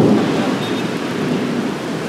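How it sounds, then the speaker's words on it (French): Loud thunder rolls through a thunderstorm in Asia, a dense rumbling roar blended with heavy rain, close and unbroken for a couple of seconds. "J'ai jamais entendu de ma vie des éclairs comme ça, l'orage là, c'est abusé."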